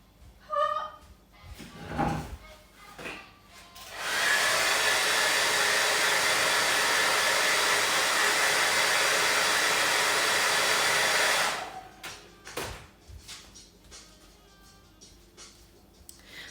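A hair dryer blows heat to erase heat-sensitive pen marks from fabric, starting abruptly, running as a loud steady whoosh for about seven seconds and cutting off, with handling knocks and rustles before and after.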